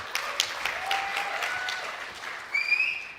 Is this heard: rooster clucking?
no